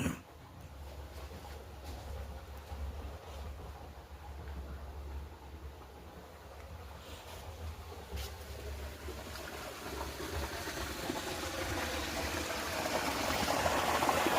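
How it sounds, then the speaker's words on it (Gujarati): Irrigation water with jivamrut mixed in flows through a field channel beside a sown wheat crop, giving a continuous rushing, gurgling stream that grows gradually louder, with no one speaking. "અને આવી રીતના પાણીની સાથે જ આપણે જીવામૃત મેલીએ છીએ"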